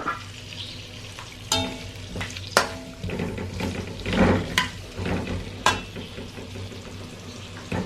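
Potato pieces fry in hot oil for an aloo baingan curry, giving a continuous sizzle broken by sharp scraping knocks of a spoon stirring in the pan.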